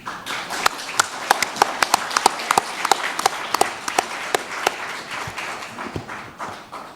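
An audience at the opening round table of a human rights forum gives a speaker a welcome. There are sharp, scattered claps and taps over a murmuring room, and they thin out toward the end.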